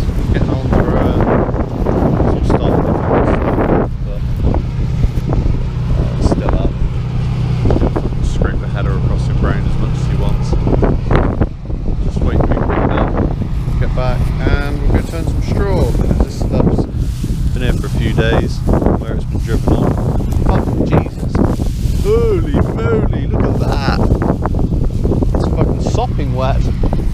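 Strong spring wind buffets the microphone throughout, a constant loud roar with rumbling gusts, a farm vehicle engine droning underneath.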